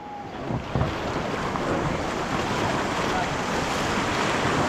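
River rapids rushing around a raft during whitewater rafting on a Gujarat river, a dense, loud, continuous roar of churning water with wind buffeting the microphone, steady from start to finish.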